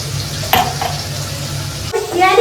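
Fish frying in oil, cooked without turmeric, produces a steady, close sizzle broken by a few sharp spits and a clatter near the end, while someone talks over it.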